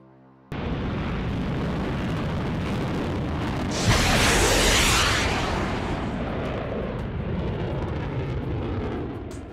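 A roaring whoosh from an AIM-120 AMRAAM missile released from a jet in a flight game, a loud sustained rumble with a sharp burst of hiss partway through that swells and then fades back into steady engine noise.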